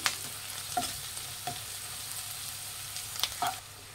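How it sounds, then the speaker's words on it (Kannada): A spoon stirs spiced egg puff filling in a frying pan, giving a soft sizzle under several sharp scraping clinks against the pan at uneven intervals, close and fairly quiet. "ಉಪ್ಪು ಹಾಕಿದ್ಮೇಲೆ ಮಿಕ್ಸ್ ಮಾಡಿ"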